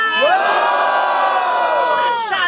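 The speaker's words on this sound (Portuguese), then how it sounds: "Caldeirão, barulhos, barulhos pro menor do Jota!" A loud crowd at a freestyle rap battle semifinal cheers and shouts continuously, with whoops and high excited voices layered together, close and sustained throughout.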